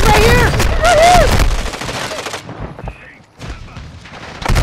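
Gunfire in Call of Duty Warzone: rapid bursts of shots ring out loud and close, over shouting players, then a short lull before more scattered cracks.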